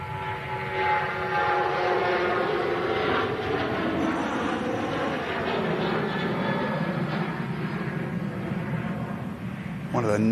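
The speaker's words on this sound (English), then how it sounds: "One of the noisiest departures we've had today at the minute" An airliner departs Manchester Airport, its engines producing a loud, continuous broadband roar that holds steady and close for the whole stretch, with no break in the rumble.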